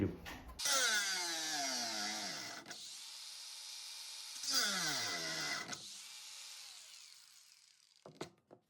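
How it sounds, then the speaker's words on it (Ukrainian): A cordless angle grinder fitted with a 5 mm disc whines up to a high pitch and bites into metal with a harsh, loud grinding, then spins down, restarts, and winds down again. "далі в нас болгарка"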